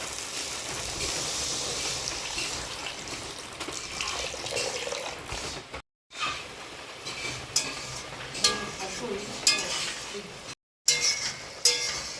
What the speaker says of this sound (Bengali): মশলাটা কষানো হয়ে গেছে মশলার থেকে কিন্তু তেল ছেড়ে এসছে এবার আমি জল দিয়ে দেবো